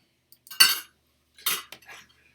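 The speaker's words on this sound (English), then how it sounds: "As she angrily reconfigures her cups." Cups are shuffled around on a kitchen counter, giving two brief bursts of light ceramic clinks and clatter about a second apart, close and otherwise quiet.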